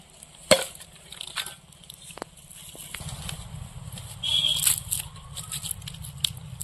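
Wooden sticks and firewood being laid and stacked by hand over a clay-covered chicken outdoors, with a sharp knock of wood near the start, then scattered clacks, rustles and crackles of pieces settling.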